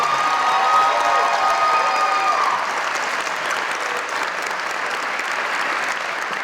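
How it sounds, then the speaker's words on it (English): A crowd applauds steadily at a basketball hall of fame induction ceremony, dense clapping with a few cheers and whistles early on, holding at an even level throughout. "Ladies and gentlemen, please give Malika Frank a round of applause."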